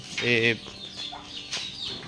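A short, close cluck from a backyard stag chicken, followed by faint scratchy rustling and a few softer bird sounds.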